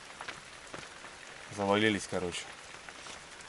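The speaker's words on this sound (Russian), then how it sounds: "у нас дождяра херачит" Heavy evening rain pours steadily outside a wheeled hut at a taiga river camp, a continuous hiss that runs under a short burst of speech.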